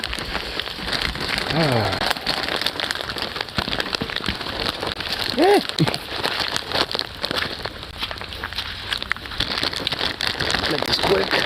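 Steady rain patters outdoors on a cold day, a dense continuous hiss of drops throughout, with a voice briefly heard partway through.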